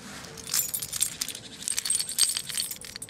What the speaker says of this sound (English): So my keys there,